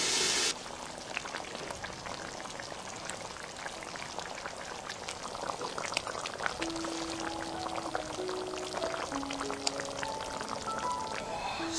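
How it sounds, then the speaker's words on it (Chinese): A braise of pork kidney with beer, water and seasonings simmers on low heat, a soft steady bubbling and sizzling with occasional pops, close and continuous after a brief louder splash at the start. "小火烧15分钟。"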